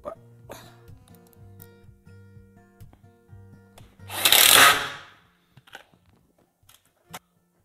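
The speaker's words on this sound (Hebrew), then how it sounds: "ועכשיו אני יכול להבריג את החלק העליון. אני אשתדל לשים את בורג הפח כמה שיותר בפנים" A sheet-metal screw is driven into the frame of a reinforced drywall shelf, a short loud burst of power-driver whir against a quiet room, preceded by faint light knocks and handling.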